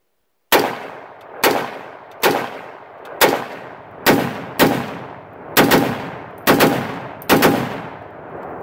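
A PSA Gen 3 AR-10 rifle fired outdoors at targets, nine loud, close, evenly spaced gunshots at roughly one-second intervals, each with a sharp crack and a short reverberant tail, with no talking.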